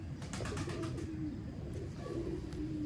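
A domestic breeding pigeon coos close by in two soft, low, rolling phrases, with a pause between them, over steady background hum.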